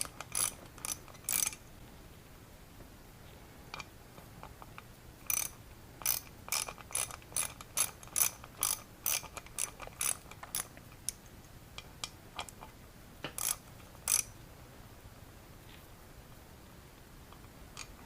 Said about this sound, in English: I'll take this thing and start getting this screw out